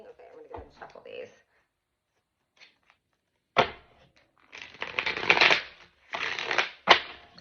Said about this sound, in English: Okay, I'm going to go ahead and shuffle these.